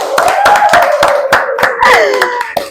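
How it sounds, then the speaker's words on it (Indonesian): A group of people applauds during an organization gathering, their steady, lively clapping close and continuous with brief overlapping hand strikes throughout. "Kita tepuk tangan dulu ya."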